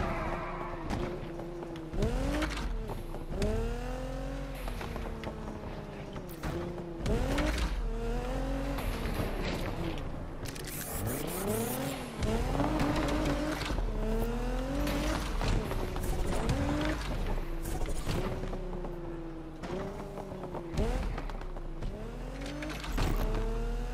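A car's engine revs and shifts repeatedly in Need for Speed Unbound, pitch sweeping up and down through the gears with brief tire noise, loud and continuous throughout.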